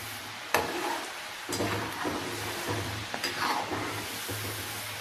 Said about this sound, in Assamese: এতিয়া এই হেৰিখনে এতিয়া লৰাই থাকিম।